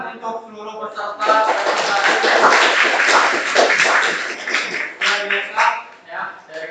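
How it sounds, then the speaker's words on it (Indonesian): Group of class participants applauding in a classroom, a dense burst of clapping that builds quickly, holds steady, then breaks into scattered claps as voices are heard at the start and end. "Tepuk tangan untuk seluruh peserta"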